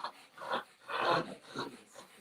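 A dog in a studio setting makes loud, excited vocal sounds in several bursts, panting and whimpery, close to the microphone over about two seconds.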